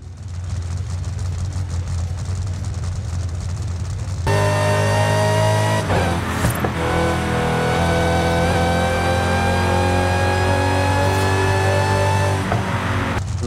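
Dodge Hellcat Widebody engine in Forza Horizon idling steadily with a deep, loud rumble, a brief rev flare near the middle before settling back to a constant throbbing idle.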